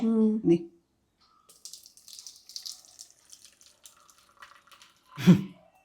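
Liquid is poured into soaked raw rice batter being ground for vattayappam, making a brief, gentle trickling splash between short bursts of a nearby voice.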